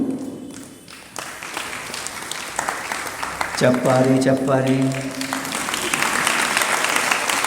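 An audience claps steadily throughout, the applause growing fuller while a voice talks over it and a brief held vocal note rises midway.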